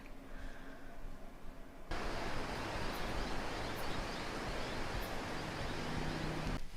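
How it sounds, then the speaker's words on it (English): Strong wind roars across the microphone on a balcony in Sydney, a broad, steady rush that suddenly grows louder and stays heavy, with faint background sounds beneath. "it's so windy they kept blowing off the edge of the balcony"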